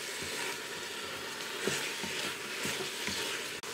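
Beef for caldereta sizzles in a hot pan with a continuous, fairly loud crackling hiss and faint rhythmic stirring scrapes, with no voices.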